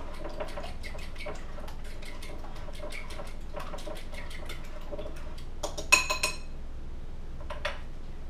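An egg being mixed in a small dish for a breakfast sandwich, with rapid light ticking taps and scrapes against the container. A few louder clinks come near the end.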